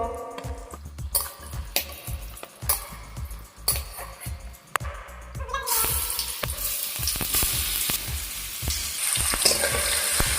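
Tomato sizzles in hot oil in a pan, with irregular stirring knocks and scrapes over a frying hiss that grows louder and denser halfway through.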